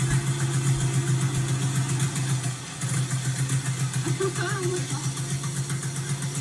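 A 1916 Excelsior motorcycle engine runs at a steady, throbbing idle close by, briefly dipping before settling back, with a voice speaking over it.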